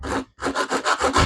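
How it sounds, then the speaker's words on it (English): Sanding the edge of a wooden table leg by hand, a steady back-and-forth rasping in about six even strokes after a brief pause, close and loud with no talking. "sand down one of the edges"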